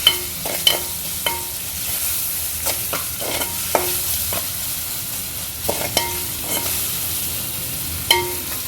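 Ginger-garlic paste and turmeric stirred in a pan for a leafy greens curry, a soft sizzle under repeated sharp spoon scrapes and taps against the metal, no talking.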